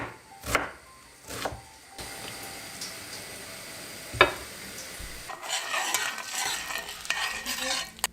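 Soaked rice and orzo pasta sautéed together in a pot: several distinct spoon scrapes and knocks against the pan, then a denser rustling stir with a soft sizzle, close and with no talking.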